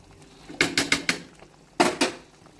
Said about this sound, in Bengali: তারপর ঘিটা নেড়ে মিশিয়ে দিলাম